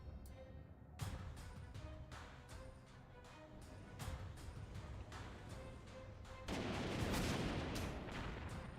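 Artillery bombardment in the strategy video game Panzer Corps 2, a string of heavy booming blasts roughly every second that swell into a dense, sustained rumble of explosions toward the end, with no talking.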